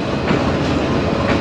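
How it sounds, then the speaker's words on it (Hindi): Pakistan Railways train hauled by an American-imported 4500 hp locomotive, giving a loud, steady rumble of rolling stock and rail noise throughout, with no voices. "बहुत ही ज़बरदस्त लोकोमोटिव,"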